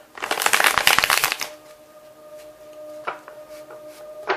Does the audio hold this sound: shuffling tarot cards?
yes